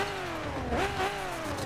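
A V12 6.0 engine in the mobile game Car Parking Multiplayer, one brief rising rev with a whining pitch that climbs and settles, fairly quiet and heard alone.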